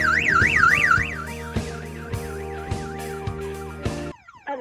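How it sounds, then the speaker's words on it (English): A StarLine car alarm set off by a hard knock on its shock sensor blares a loud, fast-warbling siren that rises and falls repeatedly, then cuts out and gives way to a few sharp electronic chirps. "You get a full alarm, and the system will ring your phone to report a serious security breach."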